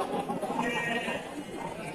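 Sheep bleat amid the busy hubbub of a livestock market where breeding ewes are traded, the calls blending with crowd murmur at a steady, moderately loud level throughout.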